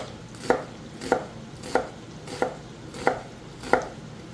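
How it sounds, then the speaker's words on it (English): Knife chopping food on a cutting board for baked Roman gnocchi, six evenly spaced crisp chops about two-thirds of a second apart, close and clear with no talk. "we will just cut this up as well"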